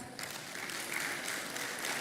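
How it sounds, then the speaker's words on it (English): Applause from the audience at the Africa Retail Congress 2025 as panel speakers walk onto the stage, a dense, continuous wash of clapping that stays even throughout with no voices. "Please clap as they come on stage."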